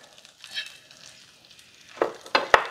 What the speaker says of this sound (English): Now I'm going to put these pork chops back in that pan.